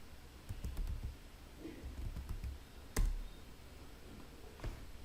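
Keystrokes on a computer keyboard while entering a Debian Linux terminal command, a sparse run of quiet clicks capped by one sharper, louder press of the enter key near the end, with a faint final tap afterward.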